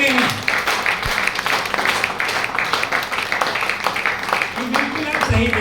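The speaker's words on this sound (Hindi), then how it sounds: "तो आप अपने लिए जोरदार तालियां बजा सकते हैं" Loud audience applause in a hall full of people celebrating themselves after a call for clapping, dense steady clapping throughout, with murmuring voices beneath and a brief voice near the end.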